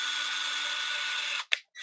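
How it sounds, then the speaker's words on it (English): A basic Ryobi 18-volt cordless drill whirs steadily at full speed with a loud, high motor whine, then stops abruptly, followed by a brief click and a short restart. "This is literally Ryobi's most basic drill on the planet."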